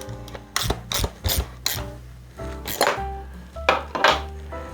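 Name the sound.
tightening seat post binder clamp with 13mm wrench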